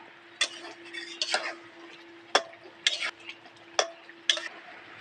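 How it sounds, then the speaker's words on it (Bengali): Village chicken leg pieces being stirred and sautéed in a pan, with sharp metal spoon scrapes and clinks against the pan recurring at intervals over a soft background sizzle and a steady low hum. "এবার কিছুক্ষণ ধরে কষিয়ে নেবো"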